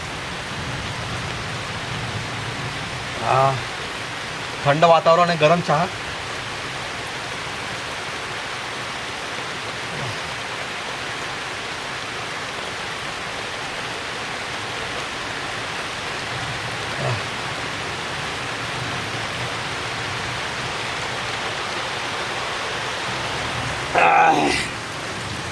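Steady first-of-the-season rain falls over a village in Ratnagiri, a soft, even hiss lasting throughout, broken by a couple of brief nearby clatters and a short voice.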